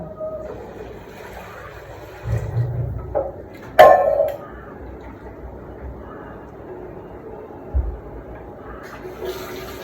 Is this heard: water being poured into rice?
yes